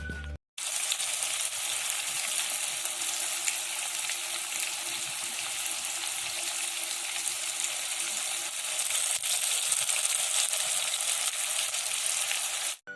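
Marinated chicken for shawarma fries in hot oil over a medium flame, giving a loud, even, continuous sizzle that lasts almost the whole stretch with no talking.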